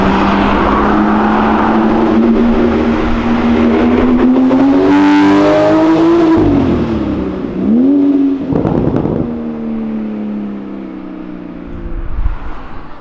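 A Chevrolet Opala's engine revs loudly, its pitch rising steadily then dropping and surging again before settling into a lower idle.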